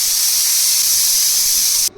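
A pressure cooker holding rice and black ghevda beans lets off steam in a loud, steady hiss that cuts off abruptly just before the end.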